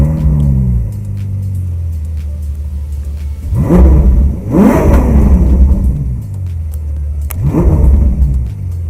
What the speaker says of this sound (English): I want to rev it up and I want you guys to hear the rev